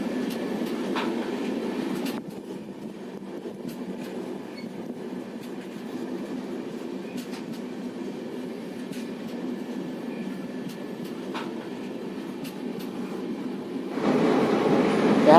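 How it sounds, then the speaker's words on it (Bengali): A train rolls slowly across a large river bridge in South India, its steady low rumble and rattle continuing throughout, growing louder near the end. "ট্রেনটা কত আস্তে আস্তে এই নদীর ব্রিজটাকে ক্রস করছে"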